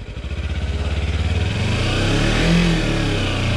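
Kawasaki Versys 300 motorcycle on a rough ATV trail, engine revving hard under heavy throttle with a pulsing, rising roar that holds loud and close throughout.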